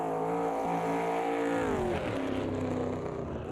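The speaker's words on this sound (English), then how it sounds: "That was nice then on the downshift with a little backfiring." Race car in Automobilista 2 dropping through the gears, a loud, close engine note falling in pitch, with rough crackles of backfire on the downshift and no talk.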